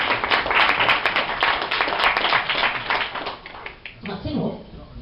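Clapping from a small coffee-shop comedy audience for the comedian's husband Mike, a dense burst that tapers off, with a voice and a few louder individual claps near the end.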